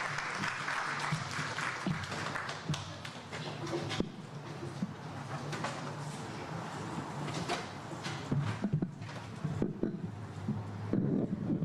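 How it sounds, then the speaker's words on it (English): An audience at a community event in Punjab Bhawan claps for a speaker being called to the stage, a steady wash of applause that swells slightly toward the end, with some handling bumps near the microphone. "Big round of applause, please"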